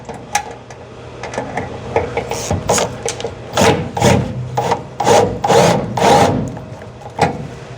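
A battery drill with a 3/8 cutting bit grinding into rusted metal in repeated rasping bursts, loud and close, each push rising and easing off in an uneven rhythm.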